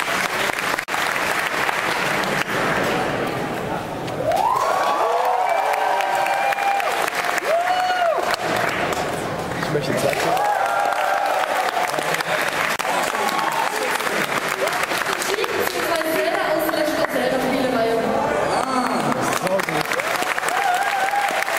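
An audience at a video game concert applauds in a sustained, dense wave of clapping that fills the hall, with scattered voices and whoops rising over it.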